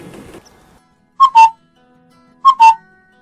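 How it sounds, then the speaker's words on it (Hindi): Asian koel calling, two clear rising two-note whistled phrases spaced about a second apart, loud and close, after a brief patch of faint background noise. "ये है हमारी कोयल"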